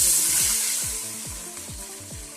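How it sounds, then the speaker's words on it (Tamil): Water poured into a hot pan for South Indian rava upma gives a loud hissing sizzle that slowly fades, with soft bubbling pops underneath. "இப்போ தேவையான அளவு தண்ணி ஊற்றிக்கலாம்."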